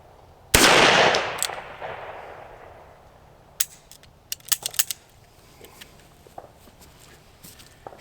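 A single loud shot from a Henry Big Boy .357 revolver fired at a steel plate rings out and dies away in a long decay, followed by scattered small metallic clicks and ticks.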